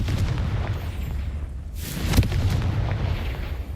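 A magical Confringo fire spell blasts off in the fantasy game Hogwarts Legacy, one sharp booming explosion in the middle, set against a steady low rumble of game ambience, with no speech.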